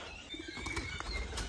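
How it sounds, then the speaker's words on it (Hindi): Pigeons coo softly in an outdoor aviary, low murmuring calls with a brief flutter of wings amid faint background bird chatter. "कबूतर, मौज मस्ती में है।"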